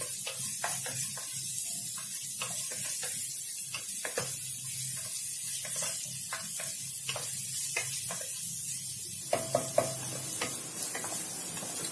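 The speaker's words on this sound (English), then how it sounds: "Next, we are going to add our onion and saute that too." Chopped onions sautéing in a pot for vegetable soup, a soft steady sizzle with scattered ticks and stirring clatters, plus a few sharper utensil knocks near the end.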